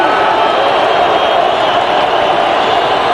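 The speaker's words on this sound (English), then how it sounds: "It's the crowd up on their feet, very loud." Loud, steady roar of a football stadium crowd on their feet during a Division 1-AA semifinal between Appalachian State and Montana, a dense wash of cheering with no breaks across the whole stretch.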